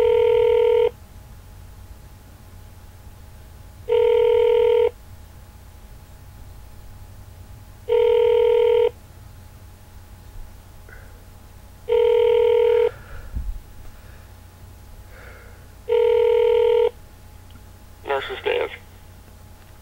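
A hospital phone line rings during a call transfer, with five evenly spaced double-burst rings about four seconds apart, loud and close, and brief faint noises between the later rings.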